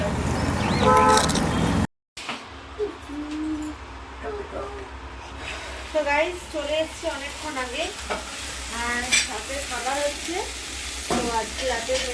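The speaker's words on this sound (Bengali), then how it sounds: "ভাজা ফুলকপি আলু ভাজা করছি" Cauliflower and potatoes fry in a pan with a continuous close sizzle, starting after a brief cut. A person speaks over the crackling throughout.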